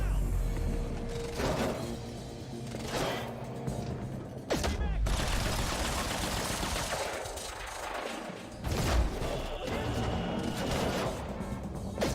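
Rapid gunfire in the video game Quantum Break, with dense bursts of shots and sharp cracks over a thick, continuous action soundtrack, mixed with shouting voices.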